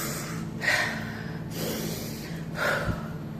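Slow, deep calming breaths, close and quiet, with three soft breathy swells spread evenly over a few seconds and no talking.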